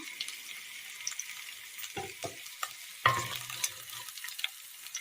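Chopped shallots hitting hot oil with chillies in a pan give a steady broadband sizzle, with a few sharper clatters of a spoon stirring around two and three seconds, close and moderately loud, no talking.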